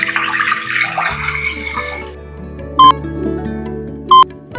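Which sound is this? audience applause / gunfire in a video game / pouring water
pouring water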